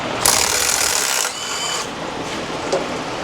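A battery-powered impact tool rattles rapidly and ineffectively against a thread-locked bolt on a Ford F150 5.0, a loud close buzzing burst that stops, then resumes more weakly, with a brief click near the end.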